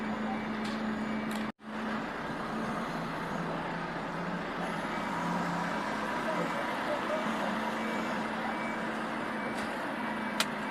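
Steady road traffic with cars and trucks passing on a road beside a drop-off near a bridge, a continuous near rumble with a brief dropout early on and no speech over it.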